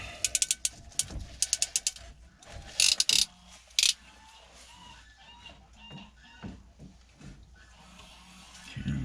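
Ratchet clicking in short rapid bursts while cinching down a plumbing fitting during a repair, close, followed by handling noise and faint background sounds.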